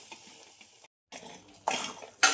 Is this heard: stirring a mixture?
yes